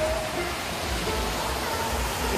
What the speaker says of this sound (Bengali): বিভিন্ন জায়গা থেকে জল পড়ছে।